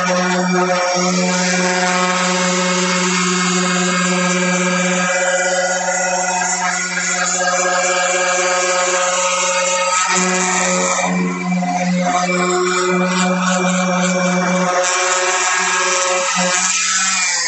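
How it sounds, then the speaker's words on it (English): A power sander drones loudly and steadily against a car body panel, a sustained humming tone with slight shifts in pitch as pressure changes, with no talk over it. "We'll sand it."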